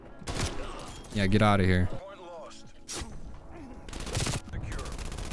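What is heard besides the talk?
gunfire in Call of Duty Black Ops Cold War video game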